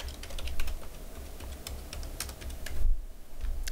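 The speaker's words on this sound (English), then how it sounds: "I have to type in my local password again." Close, quick clatter of keystrokes on a computer keyboard while entering a password at Windows 8 sign-in, a steady run of light taps with a short pause near the end.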